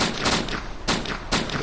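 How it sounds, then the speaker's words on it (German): Gunfire in the video game DayZ Standalone on the rooftops of Cherno: three loud, sharp shots come at roughly half-second intervals, each with a brief echoing tail. "Schießt aber gegen die Wand, oder?"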